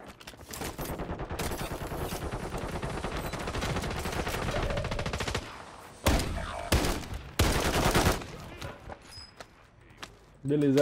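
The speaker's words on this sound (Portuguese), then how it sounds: "atirando no meu amigo" Sustained automatic gunfire in Warzone 2.0 rattles loud and close for several seconds, then breaks into shorter bursts and single shots, with voices talking over the shooting.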